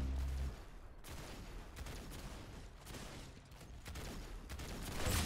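Video game gunfire in rapid bursts and fusillades, dense and continuous across the clip at moderate level with a heavier burst at the very end.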